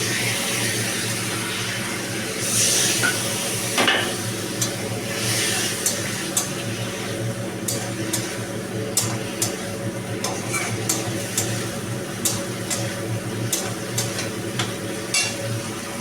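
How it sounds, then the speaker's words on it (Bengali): A ground spice paste sautés in a pan for a fish curry, with a low, continuous frying sizzle broken by repeated light scraping and tapping of a stirring utensil against the pan. "বাটা মশলাগুলো দিয়ে আমি অল্প একটু কষিয়ে নেব"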